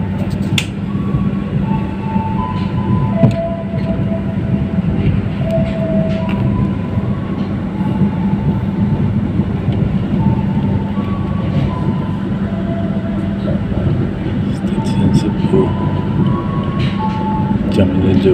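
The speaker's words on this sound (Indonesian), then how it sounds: "Guys, kereta jalan dari stasiun Cepu guys." A KAI Kertajaya passenger train pulls out of Cepu station, heard from inside the carriage. A steady, loud rumble runs throughout, with faint clicks and scattered brief tones over it.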